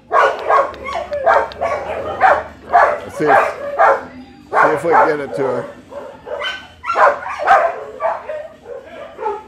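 A shelter dog barks repeatedly in short bursts and yips, with whimpers between, while a person talks nearby.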